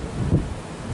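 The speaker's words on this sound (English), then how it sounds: "Oh, sorry, the wind again." Outdoor wind buffets the microphone in a steady, loud low rumble that fills the entire second with no voice over it.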